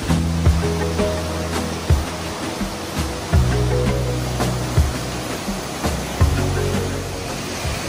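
Water flows steadily through gravity-fed fountains and canals in Barranca del Cupatitzio National Park in Uruapan, Michoacán, a loud continuous rushing wash with faint low tonal hum and soft splashes.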